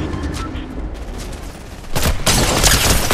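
Gunfire in a battle royale video game, a dense burst of loud cracking shots that swells sharply partway through after a rumbling stretch, with brief overlapping voices.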